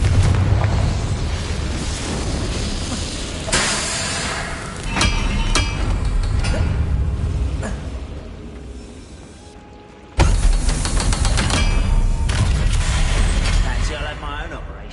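Heavy Confringo spell blasts boom in Hogwarts Legacy, several loud explosive hits over a rumbling, crackling battle din, with a sharp burst near the end.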